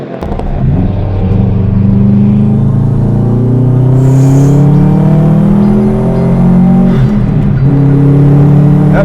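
A 2007 Subaru WRX STI fitted with a larger-than-stock turbo accelerates hard, its loud engine note climbing steadily through the revs in a smooth, continuous pull with no talk over it.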